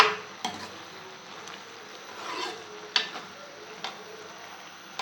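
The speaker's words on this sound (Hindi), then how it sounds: "फिर इसको हम अच्छी तरह से भून लेंगे।" Grated carrots for gajrela being stirred and fried in a pan, heard as faint soft scraping and rustling with a few light spoon taps against the pan.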